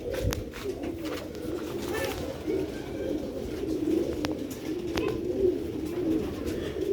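Pigeons coo softly and repeatedly in a loft, a low murmuring chorus with a few higher chirps and clicks scattered through it.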